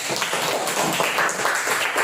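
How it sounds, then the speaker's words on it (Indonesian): A brief burst of hand clapping from a class, steady and fairly loud, with no one speaking. "Oke, tepuk tangan untuk Fatih."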